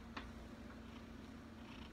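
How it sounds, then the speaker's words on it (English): Playful house cat making a soft, steady purr close by, with one brief faint chirp near the start and no other sounds. "My cat is being bad right now."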